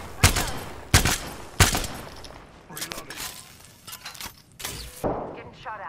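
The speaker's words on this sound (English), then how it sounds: "Getting shot at." Gunfire in the Apex Legends video game, with three sharp loud shots early on followed by scattered lighter shots and reload clatter, mixed with game speech and effects.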